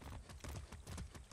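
Hooves of a ridden horse clip-clop along a road in the video game Far Cry 6, a quick, regular run of close, fairly loud hoof strikes with no voices over them.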